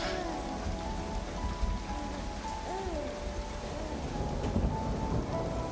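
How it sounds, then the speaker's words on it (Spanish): Rain pours steadily in the climbing game Jusant, a dense, even hiss of drops hitting surfaces, with a low rumble underneath and faint tonal game sounds drifting over it. "Como me gusta la lluvia también, tío. Es que el sonido del agua es tan relajante."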